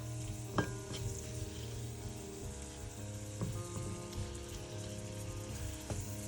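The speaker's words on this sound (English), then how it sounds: "Let that go and fry up." Salt mackerel rundown fries on a stove, giving a steady close sizzle and crackle with a few sharper pops and spatters scattered through.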